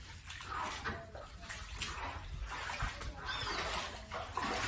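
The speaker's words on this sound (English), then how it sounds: "that's what this young lady is bailing out of the apartment" Floodwater being bailed out of a flooded apartment, faint irregular splashing and sloshing of water scooped and tossed, fairly distant and steady.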